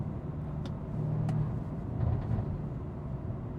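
A stock BMW M4 accelerates, its engine a low, steady drone heard from inside or close by, rising slightly in intensity across a few seconds.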